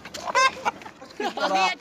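Chicken clucking in short bursts, close and fairly loud, with a few quick calls in a row; the sound fits a hen or rooster being carried around a residential colony.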